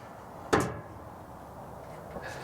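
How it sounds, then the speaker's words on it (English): The lid of a Pitts & Spitts hybrid smoker pit is opened with a single sharp metallic clunk near the start, followed by a faint lighter knock a little later in an otherwise quiet outdoor setting. "I'm going to go ahead and get the pit open and get this thing loaded up."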